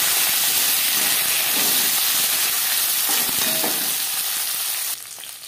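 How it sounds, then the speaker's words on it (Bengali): Green beans and carrots frying in hot oil with whole cumin seeds and chilli for a vegetable dal, a loud, steady sizzle with a few stirring scrapes that drops off sharply near the end. "লঙ্কার সাথে 15-20 সেকেন্ড জিরে ভেজে নেওয়ার পর দিয়ে দেব শিম, গাজর"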